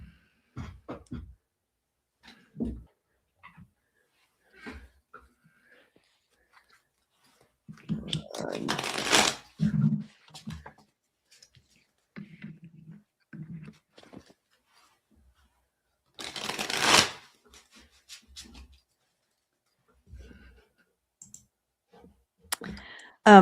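Intermittent riffling and clicking of cards being shuffled in a few bursts, with soft handling noises and brief quiet gaps between.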